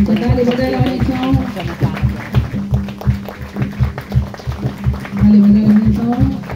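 A church congregation in Nepal claps in a steady rhythmic beat, the sharp regular claps mixed with music and voices.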